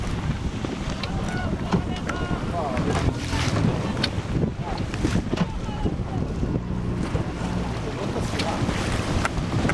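A sailboat moves through gusty wind during a winter sailing race off Herzliya, with steady buffeting wind noise and water sloshing around the hull and people talking in the background.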